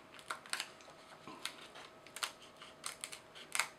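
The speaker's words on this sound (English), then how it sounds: "kind of cut around the opening" Scissors snip through frayed HDPE fabric around the edge of a hole during a repair, a series of short, crisp cuts at an irregular rhythm, close and fairly quiet with no talking.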